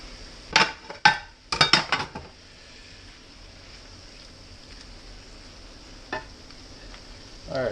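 Pieces of deer heart frying in a pan, a low steady sizzle that runs under several sharp clinks and scrapes of a utensil against the pan early on.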